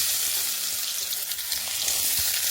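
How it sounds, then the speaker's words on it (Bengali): Onions fry in hot oil in a pan along with bay leaves and whole spices, giving a bright, continuous close sizzle with light stirring and no talk. "কড়াইতে তেল দিয়ে দিলাম প্রথমে দিলাম তেজপাতা আর গোটা গরম মশলা এবার আমি পেঁয়াজটা দিয়ে দিলাম"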